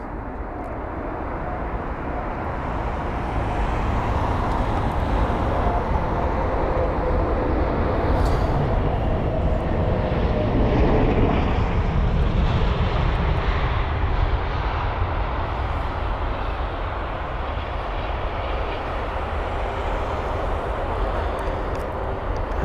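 An airliner rumbles on runway 27R at London Heathrow, a broad, steady roar that swells gradually and holds for over twenty seconds, heard from a distance outdoors with no voices.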